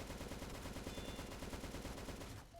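Dense, continuous rapid gunfire from assorted randomly assigned guns in a Roblox shooter game, overlapping bursts close and loud for most of the stretch before cutting off abruptly near the end.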